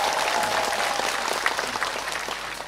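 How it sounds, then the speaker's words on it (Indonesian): Applause from an audience at a large open house event during an Indonesian presidential campaign speech, a steady, dense wash of many hands clapping throughout, fairly loud and close, with no voices over it. "Tepuk tangan."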